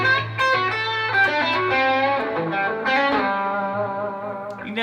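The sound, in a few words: 335 electric guitar with reverb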